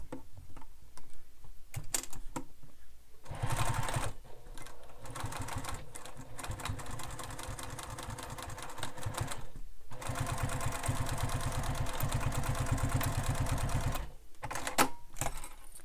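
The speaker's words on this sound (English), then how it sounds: "I'm going to back stitch a few times" A sewing machine runs bursts of rapid stitching on a bag, several runs separated by short pauses as it back stitches over the strap, close and clear with no talk.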